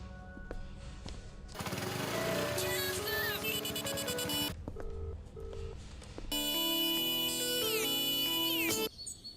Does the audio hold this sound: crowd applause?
no